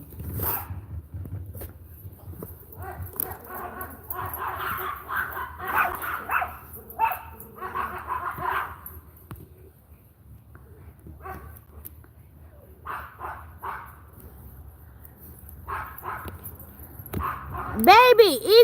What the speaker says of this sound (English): What them dogs doing?